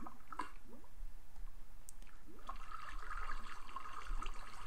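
Water flowing and trickling in the Minecraft video game, a steady soft wash with faint clicks and squishy game sounds, moderately quiet throughout with no talking.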